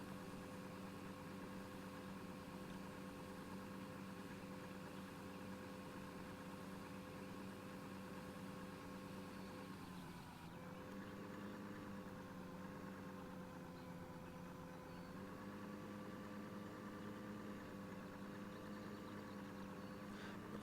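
Tractor engine idling in the Farming Simulator 2013 video game, a faint, steady low hum with a slight wavering dip in pitch midway, with no voices over it.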